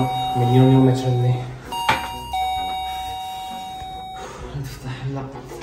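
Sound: doorbell ringing

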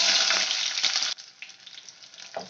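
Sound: small onions sautéing in oil

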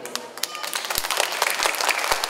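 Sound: schoolchildren applauding to vote

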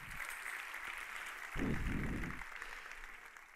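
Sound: audience applause for the Lord

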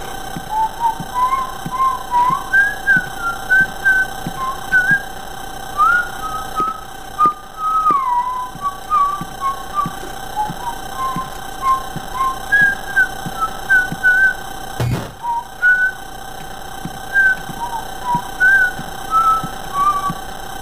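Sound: person whistling a song

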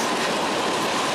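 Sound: freight train with SD45T locomotives passing

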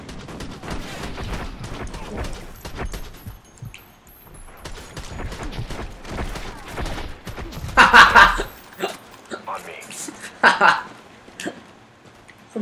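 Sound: gunfire in Call of Duty Ghosts video game

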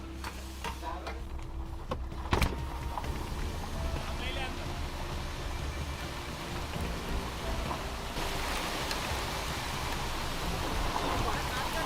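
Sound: rain and wind

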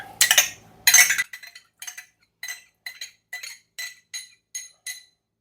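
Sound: stirring milk with a spoon in a dish

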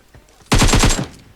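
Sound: gunfire in video game PUBG Mobile

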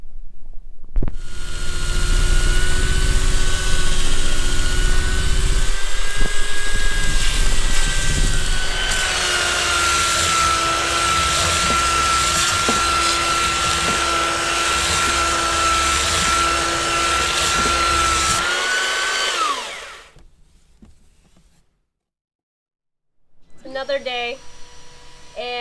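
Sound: belt sander shaping wood pieces

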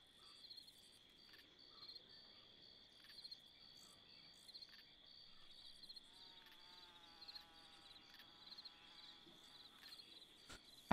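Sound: insect buzzing in a video game

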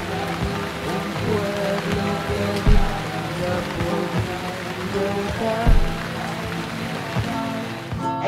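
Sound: rain starting to fall

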